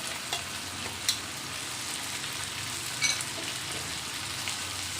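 Chicken frying in a pan with freshly ground, roasted masala for Kolhapuri chicken, a steady close sizzle with a few soft clinks and stirring taps, no talking.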